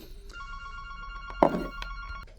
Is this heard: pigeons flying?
no